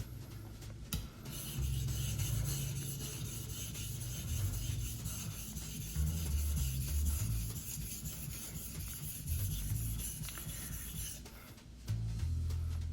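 Knife blade stroked back and forth on a sharpening stone to raise a burr along the curve, steady close rubbing and rasping passes repeating for about ten seconds before a short pause.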